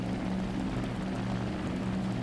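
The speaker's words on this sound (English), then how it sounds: "let me put on my plane engines" Plane engines fitted to a vehicle in the Trailmakers video game drone steadily, a low, throbbing propeller hum with a pulsing beat, continuous and moderately loud with no talk over it.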